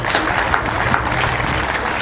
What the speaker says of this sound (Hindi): इन सब के लिए एक बार आराम से, प्यार से लंबी लंबी ताली ला दीजिए